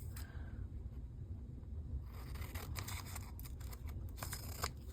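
Scissors snip through paper in an art journal, with a run of quick, faint cuts near the microphone over a low background hum.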